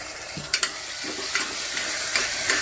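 Masala for chana masala sautés in a pan with freshly added tomato, giving a close, steady sizzle with a few soft scraping stirs and clinks of a spoon, and no talking.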